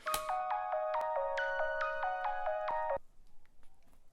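A bright, plinky synth melody of quick metallic clicking notes plays for about three seconds, then stops, leaving faint ticks.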